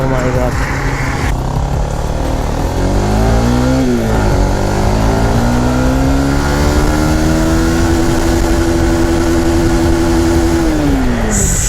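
A Honda CBR 150R motorcycle accelerating hard in second gear, its engine note climbing steadily and loud close to the rider, then dropping away sharply as the throttle closes at the end.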